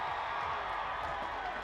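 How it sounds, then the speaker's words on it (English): Football stadium crowd at a North Alabama vs Austin Peay game roars steadily after a touchdown call stands, a broad, continuous wash of distant cheering with no individual voices standing out. "Crowd approves. You hear it."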